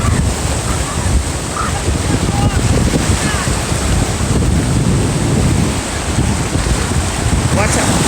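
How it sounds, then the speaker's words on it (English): Loud, continuous roar of rough surf at Tybee Island beach with heavy wind buffeting the microphone, waves crashing steadily throughout. "Oh my, it's so windy. That's why the waves are so rough."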